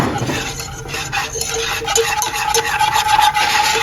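A spoon stirs pudding mixture with UHT full cream milk in a pot, scraping and clinking steadily against the metal for several seconds with no talking.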